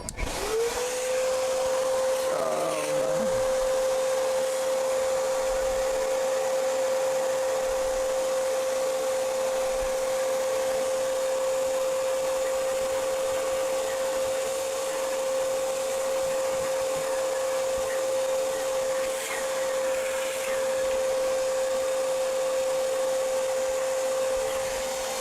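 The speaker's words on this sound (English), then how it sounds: "let me shop vac this area because we got some dust in there as well as this heat sink" Shop vac sucking dust out of an electronics heat sink, a loud, steady, continuous whine with a sustained tone that runs close and unbroken throughout.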